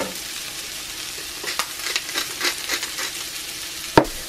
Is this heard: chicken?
yes